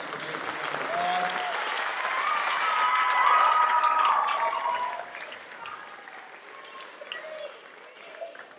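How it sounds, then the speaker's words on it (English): An audience applauds at a 7th and 8th grade school winter concert, a dense sustained clapping that swells and then fades, with faint crowd murmur beneath. "Please give them a big round of applause."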